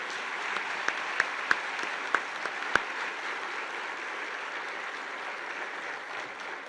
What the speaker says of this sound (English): please have another round of applause for our departmental award recipients